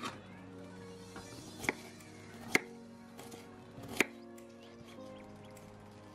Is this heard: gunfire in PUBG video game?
no